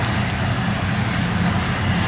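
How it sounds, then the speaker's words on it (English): A 1957 Ford Ranchero's 302 V8 idles close by, a steady, smooth low rumble with no changes in pace, without talking. "Very nice sounding 302 under the hood."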